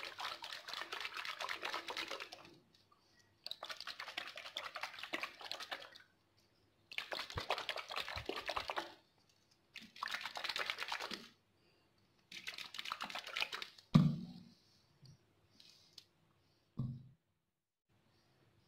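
A closed container of sanitizer gel and alcohol shaken hard in five separate bursts of rapid sloshing and rattling, each lasting about two seconds, with short pauses between them, then a few single knocks and clunks.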